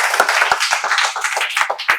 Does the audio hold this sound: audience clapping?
yes